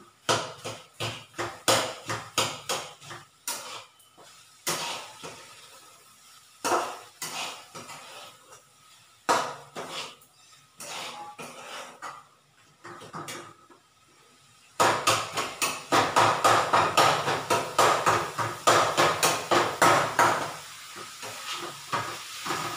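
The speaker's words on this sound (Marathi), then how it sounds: "ओलं खोबरं, गूळ, खसखस आणि विलायची आणि तूप टाकून ते चांगलं परतून घ्यायचं." A utensil scrapes and taps repeatedly against a pan while modak filling of fresh coconut, jaggery, poppy seeds, cardamom and ghee is stirred and sautéed, the rhythmic clinks close and steady, with a hissing sizzle swelling in the latter part.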